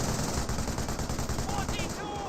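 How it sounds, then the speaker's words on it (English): An MG42 machine gun rattles in rapid continuous bursts during a Company of Heroes battle, sharp and dense with background battle noise, the fire thinning slightly near the end. "Rifle squad does get forced back by that second MG42"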